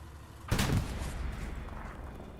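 A single sharp gunshot impact on a tank's engine block in the WWII shooter Hell Let Loose, on the Elsenborn map: a sudden loud crack and boom followed by a rumbling tail of battle noise.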